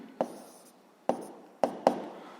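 A pen writes an equation on paper, producing four short, distinct scratching strokes spaced irregularly, close up and quiet, with no one talking.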